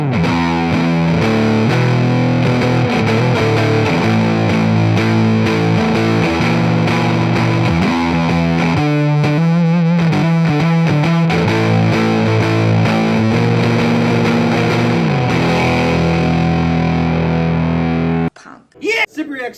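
Loud, crunchy electric guitar through a Sibriex Distortion pedal plays chords and riffs nonstop, with a brief choppy break midway, before cutting off abruptly near the end.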